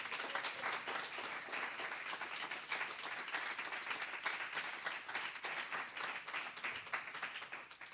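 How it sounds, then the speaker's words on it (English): Sustained audience applause at a library poetry reading fills the room, dense steady clapping from many hands at moderate distance, continuous for the whole stretch with no voices standing out. "Please give them all another round of applause."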